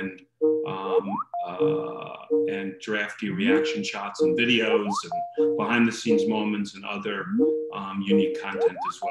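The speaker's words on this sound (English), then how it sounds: "5 minutes in the phone rings" A phone ringtone chimes repeatedly in a steady melodic pattern during an online production roundtable, partly masked by someone talking continuously over it.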